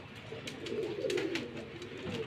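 An old pigeon, a 28-year-old bird with a cataract-clouded white eye, coos softly in a low, rolling murmur over a couple of seconds, close by with steady background noise.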